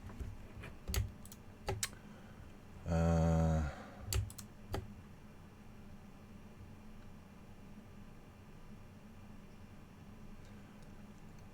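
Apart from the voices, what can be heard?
computer keyboard typing and button clicking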